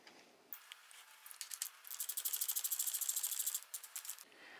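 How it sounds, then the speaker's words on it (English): A ratchet tightens a bolt on an SP Connect bar clamp mount fitted to the handlebar of a 2019 Harley-Davidson. Brisk, quiet metallic clicking speeds into a dense run, then slows again. "Then we're going to tighten this up."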